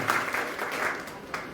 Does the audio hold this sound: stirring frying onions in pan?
no